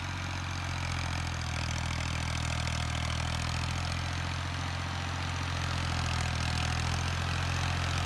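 A Ghazi tractor engine runs steadily nearby, a constant low mechanical rumble with a strong hum that holds unbroken throughout and has no speech over it.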